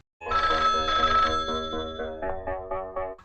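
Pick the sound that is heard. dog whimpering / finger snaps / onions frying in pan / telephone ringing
telephone ringing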